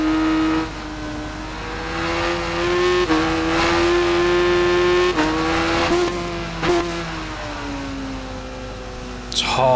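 A 1998 Yamaha YZF-R7 engine in the racing game Ride 5, screaming high and harsh through a lap with rising revs, shift dips and brief drops off throttle, steady and up front with no talk.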